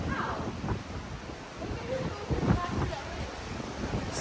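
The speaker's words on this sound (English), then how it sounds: "the ocean is very rough today" Rough ocean surf churns and crashes near the shore, a broad washing roar mixed with strong wind buffeting on the microphone and occasional voices.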